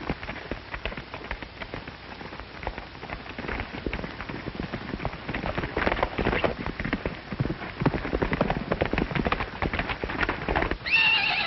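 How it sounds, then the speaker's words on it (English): A white stallion in a western film gallops with rapid hoofbeats and lets out whinnies and neighs, over a continuous rushing, rain-like noise. It is loud and steady throughout, with no speech. "that crazy white stallion broke out of his corral"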